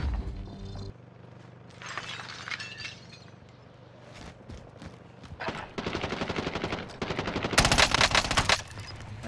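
Gunfire in the Call of Duty: Warzone battle royale, including sniper shots: sharp cracks and rapid bursts scattered across the scene, growing denser and louder toward the end, with faint game ambience underneath.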